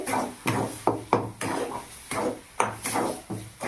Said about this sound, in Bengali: ঠিক মতো নেড়ে চেড়ে এই পুরটা তৈরি করে নিতে হবে।